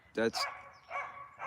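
A neighbor's dog barks a few times nearby, a couple of sharp yelping barks at the start followed by longer whining, howl-like calls.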